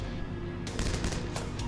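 Rapid automatic MP40 submachine gun fire in the video game 7554, a dense burst of close, loud shots starting partway through and continuing to the end.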